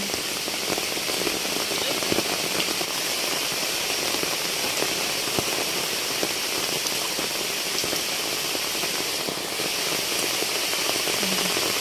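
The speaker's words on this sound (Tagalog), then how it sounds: "Oh, malakas pa rin po ang ulan." Heavy rain pours steadily beside a river in the Philippines, a dense, continuous hiss of drops with scattered sharper splats close by, loud throughout with no break.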